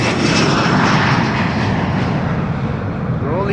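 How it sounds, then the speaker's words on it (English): A KLM Embraer 175 jet airliner departing Amsterdam Schiphol gives off a loud, steady engine roar that holds throughout and tails off slightly at the end. "we have an Embraer 175 now leaving for Luxembourg"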